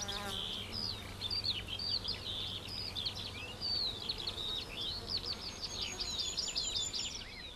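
Insects buzz steadily around flowers, a dense layer of overlapping wing drones, with a few faint bird chirps scattered through the background.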